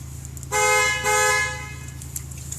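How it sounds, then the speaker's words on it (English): A truck's horn blares in two close, loud blasts about half a second each, with the engine idling low underneath. "Alarm, not the button I meant to hit."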